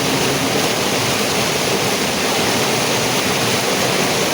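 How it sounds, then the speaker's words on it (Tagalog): Loud, steady roar of a rushing river current, a dense broadband wash with no pauses, close by. "Hindi nyo masyado marinig yung boses ko kasi malakas ng alon ng tubig."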